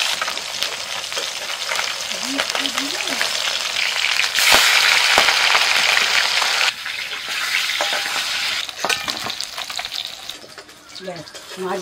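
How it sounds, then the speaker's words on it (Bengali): Fish frying in a pan produces a loud, continuous oily sizzle with crackles and scraping stirs. The intensity swells midway, then eases slightly toward the end. "মাছ ভাজা হয়ে গেল"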